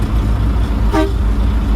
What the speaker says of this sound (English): my air horn.